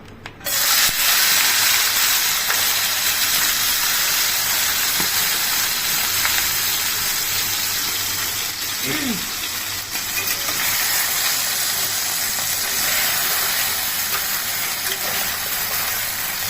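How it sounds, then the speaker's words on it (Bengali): Tangra fish fry in hot oil in a wok, giving a steady, fairly loud hiss and sizzle that runs the whole time with slight crackles, and no voices. "আমি তেল দিয়ে দিচ্ছি ট্যাংরাগুলো ভাজার জন্য"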